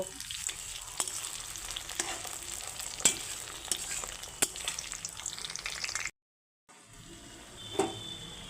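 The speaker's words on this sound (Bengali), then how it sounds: "টমেটোগুলো হালকা ভেজে নেব" Chopped tomatoes frying in a pan after browned onions for a mutton curry: a continuous close sizzle with regular sharp taps of stirring, then a brief gap before the sizzle returns more softly.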